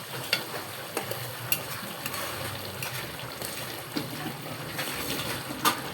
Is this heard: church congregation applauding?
no